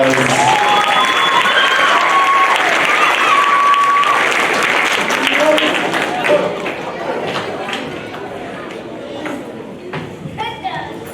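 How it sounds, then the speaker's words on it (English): Audience applause fills a middle school spring band concert, loud sustained clapping with scattered cheers that gradually thins out and fades near the end. "Give her one more round of applause."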